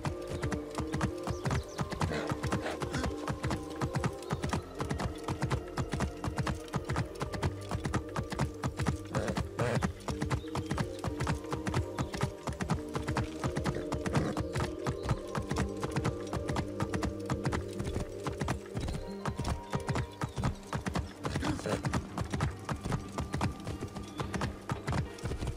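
Horse hooves clip-clopping on city streets of ancient Alexandria in Assassin's Creed Origins, a steady close trotting rhythm over a busy ambient bed with occasional snorts, no talk.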